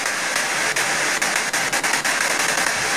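Continuous hiss of empty FM radio static offshore British Columbia, loud and steady, with occasional brief dropouts and crackles; no speech.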